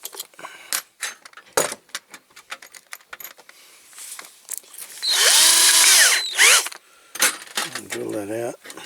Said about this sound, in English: I'll drill that out.